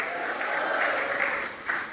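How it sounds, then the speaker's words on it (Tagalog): A church congregation applauds in thanks, a steady wash of many hands clapping at moderate distance with no voices over it. "Isang palakpak na may pasasalamat."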